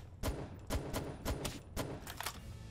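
Gunshots in the video game Palworld: about eight sharp, punchy shots fired in an uneven rhythm over a few seconds, moderately loud and close, with no voices.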